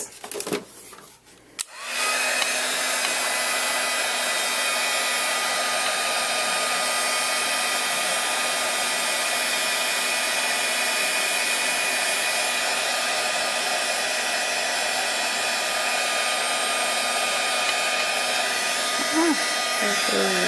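A heat embossing tool blows hot air over a Christmas card, a loud, steady whooshing hum that switches on after a brief clatter and runs unbroken to the end.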